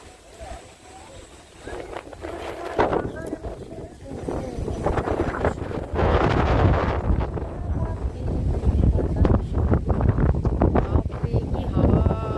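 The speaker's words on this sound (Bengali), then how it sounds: "কি হাওয়া বন্ধুরা" Strong, storm-like wind gusts outdoors, roaring and buffeting the microphone in a loud, continuous rush that swells after the first few seconds.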